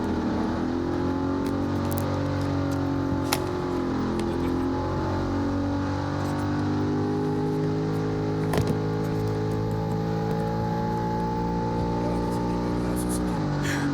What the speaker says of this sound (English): leaving the starting line here, and off with a push truck